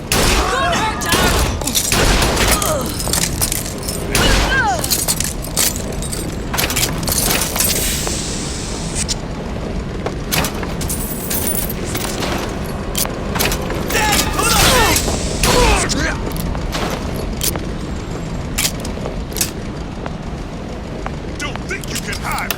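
Gunfire in a BioShock Infinite: Burial at Sea firefight, loud and continuous, with rapid shots, blasts and mechanical clatter running throughout, under occasional shouted voices.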